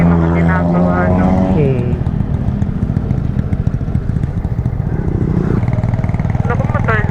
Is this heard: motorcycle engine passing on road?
yes